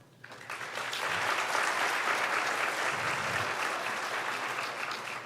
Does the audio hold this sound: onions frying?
no